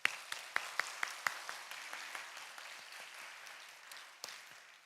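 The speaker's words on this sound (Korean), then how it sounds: "우리 하나님을 향하여 뜨겁게 영광 감사 박수" Applause from a church congregation during a Sunday worship service, opening with several sharp, loud claps that blend into a softer, scattered patter of clapping as it fades.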